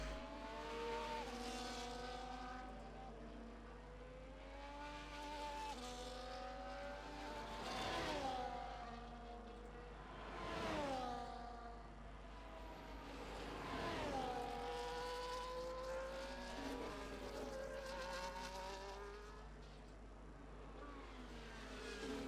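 A Ferrari race car in a racing video game screams through a qualifying lap at Baku, its high engine note rising and falling through gear shifts, with a steady low hum beneath.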